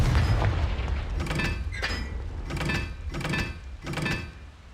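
Confringo blasting spells exploding in the video game Hogwarts Legacy: five heavy booming bursts about a second apart, each with a crackling tail, over a low rumble.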